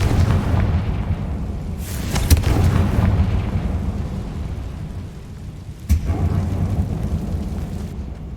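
A Confringo blasting spell exploding in the Hogwarts Legacy video game: a deep, rumbling boom that rolls on as a long low roar, with a sharp crack partway through and another sudden blast near the end.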